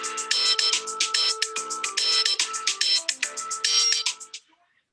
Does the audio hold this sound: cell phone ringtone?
yes